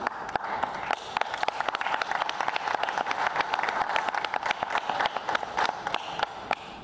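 Crowd applause at a welcoming ceremony for Prime Minister Amadou Gon Coulibaly, many hands clapping continuously with crisp close claps over a busy background murmur.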